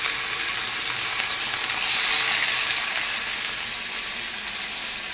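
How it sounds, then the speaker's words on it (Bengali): Fish fry in hot oil in a frying pan, giving a loud, close, unbroken sizzling hiss that holds steady from start to finish with no talking. "এখন আমি মাছগুলো ভেজে নিতেছি"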